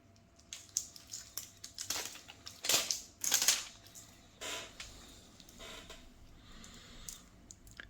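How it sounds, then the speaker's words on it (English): Protective plastic crinkles and crackles as it is peeled off a steel G-Shock GST-B500D watch, a close series of sharp snapping rustles, loudest in the middle, then fading to lighter scratches. "Let me just take off this plastic dead quick."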